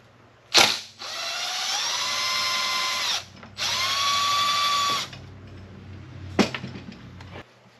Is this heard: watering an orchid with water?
no